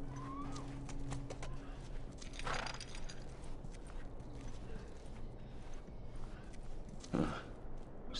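Horse hooves clip-clop in a PS4 video game, a steady run of soft clopping steps under low background music and ambience, with a brief louder burst of noise near the end.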